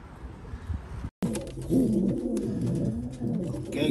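Racing pigeons coo softly in a low, rolling murmur, close and steady throughout, with a brief gap near the start and no talking.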